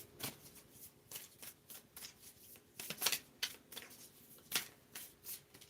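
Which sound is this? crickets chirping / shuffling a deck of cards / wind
shuffling a deck of cards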